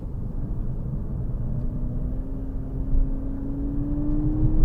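A 2013 Volkswagen Golf GTI with a manual gearbox drives along, its engine a steady low rumble and whir from inside the cabin, with a rising tone as it gently gains speed.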